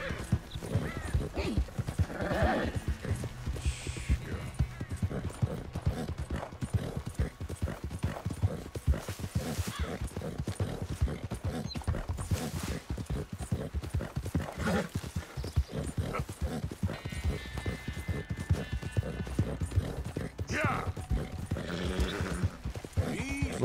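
Arabian horse in Red Dead Redemption: rhythmic hoofbeats clip-clopping close and steady, broken by occasional whinnies and snorts, with a dog barking in spots and someone talking over parts of it.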